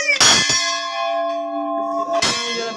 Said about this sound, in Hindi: घंटा बजाओ